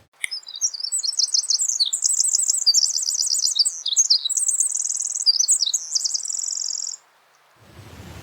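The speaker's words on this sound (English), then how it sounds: "the song of the Pacific Wren" A Pacific Wren sings one long, rapid cascade of high, tinkling trills and buzzy notes lasting about seven seconds. It is clear and close, and silence follows.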